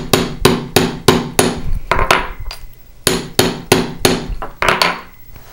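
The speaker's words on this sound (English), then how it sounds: "I would go ahead and place it on my bench block and then hammer that down." A metal disc edge is struck with a hammer on a steel bench block for a textured bracelet piece: loud, close, sharp metallic blows in two steady runs of several hits each, separated by a short pause.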